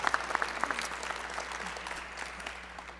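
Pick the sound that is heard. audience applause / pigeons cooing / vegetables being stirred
audience applause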